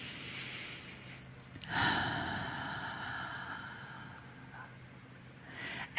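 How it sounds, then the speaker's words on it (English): A deep breath drawn in during a guided meditation session, a slow audible inhale that swells and fades, close and soft, with faint background hum. "And have another breath in."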